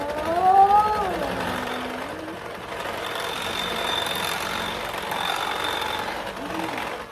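An electric mixer beats cake batter for a mixed berry layer cake with a steady, close motor whir and a faint high whine, while a voice briefly rises over it at the start.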